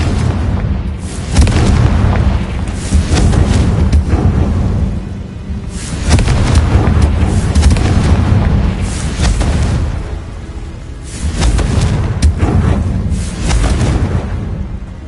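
The Confringo blasting spell in the video game Hogwarts Legacy produces loud, booming explosions that roll out in three long, rumbling surges, each several seconds long with short lulls between them.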